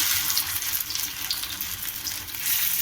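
Aloo poha cutlets dropped into hot oil over a medium flame, giving a steady, close, broadband sizzle and crackle that runs unbroken throughout with no talk.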